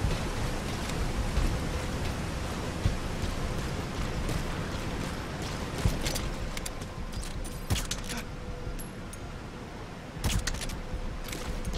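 Steady rain hisses across the whole scene in the stealth video game Metal Gear Solid 5: The Phantom Pain, with scattered sharp clicks and taps breaking through the constant wash.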